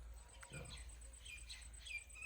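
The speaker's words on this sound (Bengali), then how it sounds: "এখন শালিক ডাকছে" Myna birds calling outdoors, a few faint chirps and whistled notes spread through the clip over a low steady background hum.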